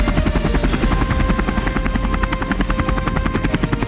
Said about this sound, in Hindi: ईरान ने पश्चिमी बॉर्डर के करमनशाह आर्मी ग्राउंड में इन हेलीकॉप्टर्स को इकट्ठा किया और एक साथ उड़ान भरकर अपनी जंगी ताकत को दिखाने की कोशिश की।